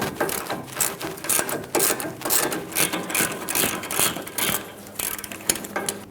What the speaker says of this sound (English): Use a 21mm socket and loosen up this mounting nut.